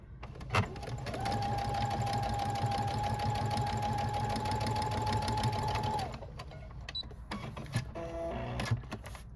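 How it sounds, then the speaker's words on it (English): A foot-pedal sewing machine stitches quilt pieces for a Monserrat leaf block, a loud steady mechanical whir running for about five seconds, then a few shorter bursts and clicks as the fabric is fed through, close up with no talking. "And stick it in our little machine here on my foot pedal."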